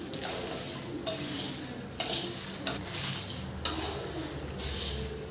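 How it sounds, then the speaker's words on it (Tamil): Whole garam masala spices dry roasting in a wide pan, with a steady dry rustling hiss as they are stirred and a few sharp scrapes and clinks of the spoon against the metal, loud and close with no talk. "இந்த மாதிரி கொஞ்சம் அகலமான பாத்திரமாக வச்சு நம்ம வறுக்கணும்."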